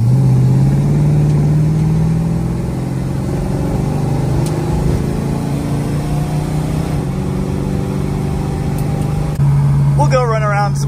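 A 1969 Plymouth GTX with a 440 V8 accelerates on the road, its deep engine rumble rising in pitch under steady in-car driving noise, with a voice talking over it near the end.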